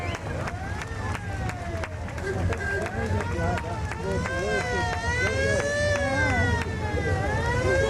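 A wailing siren rises and falls repeatedly, close and loud, over traffic noise and a crowd of voices talking.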